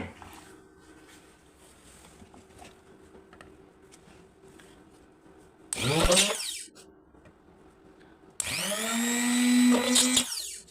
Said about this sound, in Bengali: ড্রিল মেশিনের মাধ্যমে দুটো ছিদ্র করে নেই এখানে একটা এখানে একটা